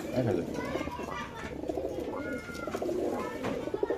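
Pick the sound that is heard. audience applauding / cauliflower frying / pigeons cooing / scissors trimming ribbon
pigeons cooing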